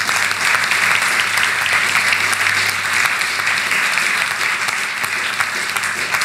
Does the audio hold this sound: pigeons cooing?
no